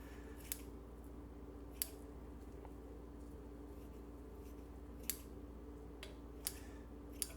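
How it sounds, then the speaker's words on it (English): Kitchen shears snip bacon over a cold pan, making a few sharp, isolated clicks spaced irregularly across several seconds against a steady low background hum. "I'm going to use some kitchen shears to chop up some bacon into a cold pan."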